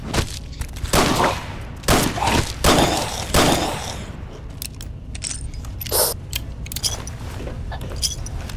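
Gunfire in the video game Fallout New Vegas, a series of sharp, loud shots in bursts with mechanical clicks and clatter between them, close and dominant.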